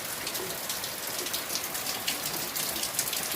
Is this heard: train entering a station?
no